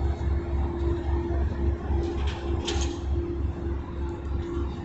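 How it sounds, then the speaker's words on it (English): The ship's engine on the MV Alfred, a Calmac ferry at Brodick on the Isle of Arran, rumbles with a steady low throb and hum, with mechanical clatter on top, continuous and loud. "The engine's starting up now."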